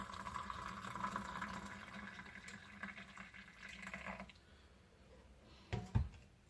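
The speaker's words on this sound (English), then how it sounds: "let's hit it with some water." Water poured from a kettle onto Kenyan spiced tea leaves with cardamom, nutmeg and ginger, a soft steady trickle for about four seconds that trails off, followed by a couple of faint clinks.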